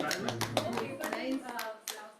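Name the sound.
applause, hand clapping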